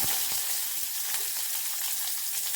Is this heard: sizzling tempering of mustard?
yes